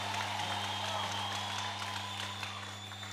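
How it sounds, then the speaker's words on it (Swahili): A church congregation applauds in praise of Jesus during a service. The clapping is steady and rather faint, blended into one continuous crowd wash over a low electrical hum. "Tumpigie Bwana Yesu makofi kwa ajili yake."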